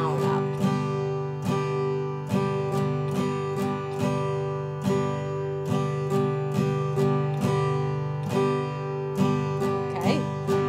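Steel-string acoustic guitar strummed in an even down-up rhythm pattern, ringing chords repeating steadily at close range with no talking.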